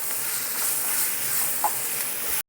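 Onions and green chillies fry in a pan with a steady, close, hissing sizzle that lasts about two seconds before stopping abruptly.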